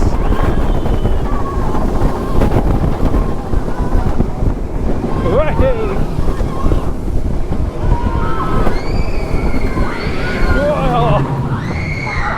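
Loud, constant wind rush from an Energylandia roller coaster ride going into the brake run, with broadband roar and clatter throughout and riders' voices and a few shouts over it.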